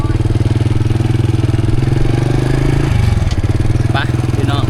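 A motorbike engine putters steadily at close range, a loud, even rhythmic throb throughout the ride, with a brief clatter and small knocks near the end.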